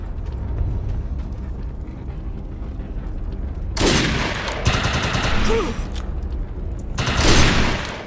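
Futuristic weapon fire in the sci-fi shooter game Deviance: loud bursts of energy-gun shots come in three clusters after a few seconds of low background rumble, each sharp, bright and close, with the last burst the loudest.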